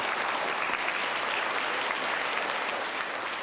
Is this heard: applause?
yes